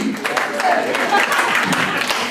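Audience at a 2019 poetry reading claps steadily, a dense patter of hands mixed with voices and cheering that runs the full length at a moderate, near level.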